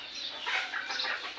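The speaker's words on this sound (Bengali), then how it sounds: "এই তো এখানে দেশি মুরগি" Native chickens roaming loose at a rural village home cluck in a short run of soft, close calls, with no voices over them.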